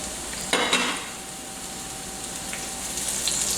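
Two small onions sautéing in a home kitchen pan while being browned toward caramelization for a baked ziti meat sauce, giving a low, steady sizzle and a brief louder burst of stirring near the start.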